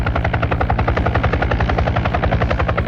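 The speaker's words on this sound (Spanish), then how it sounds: "Escuchando el tableteo del motor del helicóptero, llegamos al Cerro Autana." A helicopter engine clatters steadily in flight, its rotor beating in a fast, even rhythm, loud and close, with no voices.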